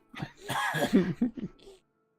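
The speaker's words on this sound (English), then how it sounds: "He kind of laughs and coughs a little bit." A man gives a short cough mixed with a small laugh, close and fairly loud, a rough burst that breaks into a few choppy throaty pulses before trailing off.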